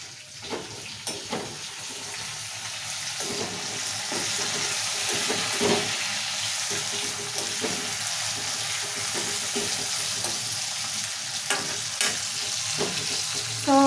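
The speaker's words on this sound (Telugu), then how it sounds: "మిరపకాయలు అయితే మంచిగా వేయించుకోవాలి" Green chillies frying in oil in a pan for tomato chutney, a steady sizzle with frequent scraping stirs and clinks close by, continuing without talk.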